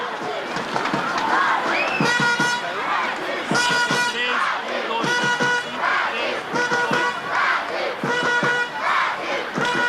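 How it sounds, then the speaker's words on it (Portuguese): A large stadium crowd of athletics fans at a meet in Fortaleza, Brazil, chanting and shouting loudly in rhythmic bursts, with a dense, continuous roar of many voices throughout. "E a torcida em Fortaleza marcando presença."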